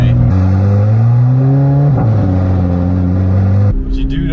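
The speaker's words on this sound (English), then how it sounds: "What you do notice though is the sound of that engine. That engine is totally different." A Corvette C8 Z06 engine hums with a loud, steady tone that climbs gradually, dips briefly, then holds before cutting off abruptly into quieter road noise.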